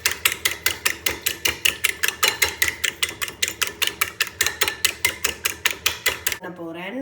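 Egg white being beaten into milk in a bowl for a fried chicken batter, a fast, steady clicking and tapping of a whisk or spoon against the bowl, repeated evenly and close by for about six seconds before stopping.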